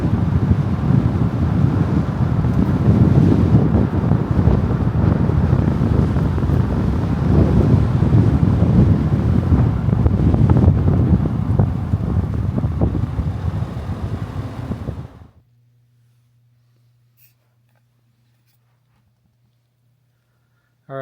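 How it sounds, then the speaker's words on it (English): Strong outdoor wind buffets the microphone in a loud, continuous roar for about fifteen seconds before cutting off abruptly, leaving near silence with a faint low hum. "I felt like I was going to end up with some sort of frostbite because the wind was super strong"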